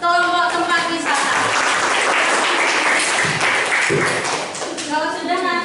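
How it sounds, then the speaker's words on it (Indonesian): In a classroom, students clap loudly together for a group that has just presented. The dense applause fills the middle of the clip, and voices speak just before it starts and again as it ends. "Tepuk tangan untuk kelompok tempat wisata."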